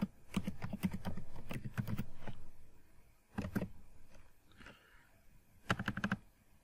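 Typing a JavaScript statement on a computer keyboard produces quick clusters of sharp, close key clicks. They come in bursts separated by pauses, including a longer quiet stretch before a final rapid flurry.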